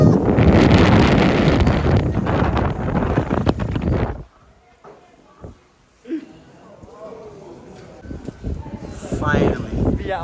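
At the exit of the Eisriesenwelt ice cave near Salzburg, strong wind buffets the microphone in a loud roaring rush for about four seconds, then drops to quiet footsteps and soft voices.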